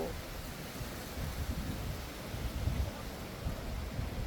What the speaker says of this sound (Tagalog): Ang ganda dito kasi mahangin.